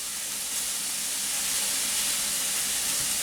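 Pork and chorizo burger patties sizzle in a hot pan, pressed down lightly with a spatula. A steady, dense, close hiss holds at an even level for the whole stretch, with no voice over it.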